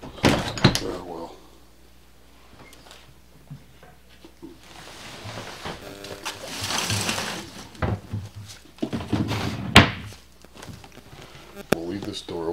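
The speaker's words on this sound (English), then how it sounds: "We'll leave this door open." A door swings open with a creaking, scraping rattle inside a house, mixed with footsteps and shuffling while people talk over it at close range.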